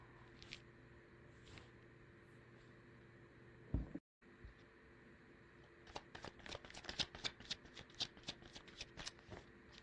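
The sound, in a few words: tarot cards being shuffled and handled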